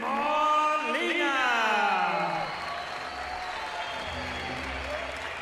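An arena crowd at a boxing event applauds as Martín Molina of Spain enters, steady clapping and crowd noise under loud sliding whistles or cheers early on, settling into a quieter sustained roar.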